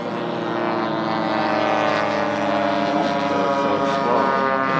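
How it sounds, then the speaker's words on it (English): Large scale model B-17 bomber with several droning propeller engines flying overhead at a model airshow, a steady loud hum that swells slightly as it passes. "Nice scale flight by the B-17."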